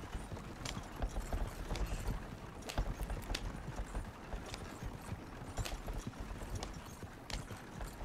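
Steady clip-clop of horse hooves pulling a wagon in the video game Red Dead Redemption, rhythmic and moderately close, with rumbling wheels underneath and no talking.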